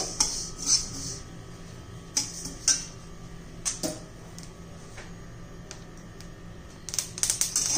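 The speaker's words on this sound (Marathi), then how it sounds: "हे पण तडतड असा आवाज यायला लागलेला आहे" Flaxseeds dry-roasting in a pan over a low flame for a chutney, giving scattered sharp crackles and pops with small clusters near the start and end over a steady low hum, close by, with no talk.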